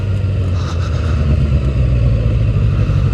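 Suzuki GSX-R motorcycle being ridden to test its rear brake, with a constant, close engine hum and road and wind noise throughout, with no distinct braking sound standing out.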